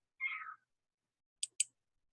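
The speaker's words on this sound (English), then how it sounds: "That's my cat screaming in the background there." A house cat lets out one short, strained meow-like cry, followed after a pause by two quick faint clicks, all quiet and apparently from another room.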